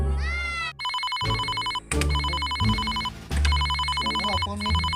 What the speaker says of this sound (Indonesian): Bener ieu mah telepon Mas Tayo.